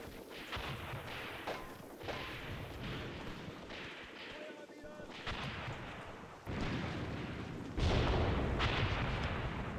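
Gunfire and artillery booms in the war game Graviteam Tactics, a dense rolling barrage of distant and nearer shots with louder blasts toward the end, with voices faintly under it.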